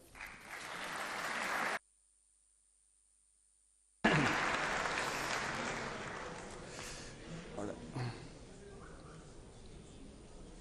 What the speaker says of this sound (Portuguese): eu peço uma enorme salva de palmas